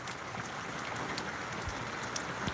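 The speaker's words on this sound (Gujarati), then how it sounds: "તો બેક કેમેરો કરીને તમને બતાવીશ કે વરસાદ કેટલો આવી રહ્યો છે" Heavy rain pours down in a continuous, even roar, with scattered drops spattering nearby.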